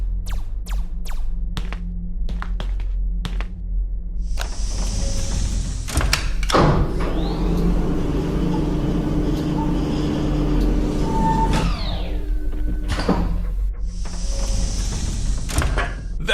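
A door in the point-and-click game Detective Hayseed - Hollywood, set in a sci-fi film studio, slides open with a long, loud mechanical whoosh over steady background hum, framed by brief clicks and thuds.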